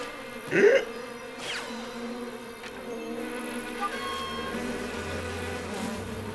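Cartoon spider-bee creatures in My Little Pony: Friendship Is Magic buzz and whir, a faint insect-like drone running under the scene with a brief louder swish near the start and quieter effects after.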